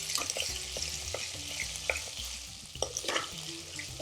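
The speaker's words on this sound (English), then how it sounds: "now I'm just putting in the Kasoori Methi, the dried methi, and we're just going to cook that out for a few seconds" Dried kasoori methi is stirred into a tikka madras curry and cooks in the pan, with a soft, steady sizzle and frying hiss broken by light scrapes and stirring knocks, fairly quiet and close.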